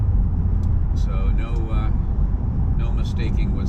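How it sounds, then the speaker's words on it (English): From inside a 2011–2017 Ford Explorer (2.0L or 3.5L) with an MRT Extreme axle-back exhaust, a steady, deep exhaust rumble runs continuously under someone speaking. "if you're looking for aggressive exhaust sound without it sounding cheap or tinny or like you cut your mufflers off, this is a great choice for you."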